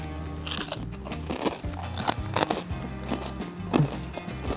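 Crunchy bites and chewing of a grilled cheese sandwich cooked on a stick over a fire, several crisp crackling bites close to the mic, with no talking.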